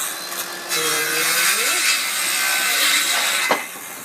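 Handsaw strokes cutting through wood for the cross braces of farmhouse-style shutters, a steady continuous rasp close up lasting several seconds and ending abruptly.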